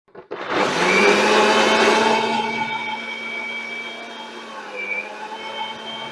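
A kitchen mixer grinder blends milk with mango-flavoured Tang. The motor kicks on abruptly into a loud, high whirring roar that eases slightly and then holds at a steady drone, with no voices.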